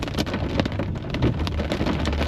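Rain falls steadily with a continuous dense patter close by, and individual drops hit the surface throughout.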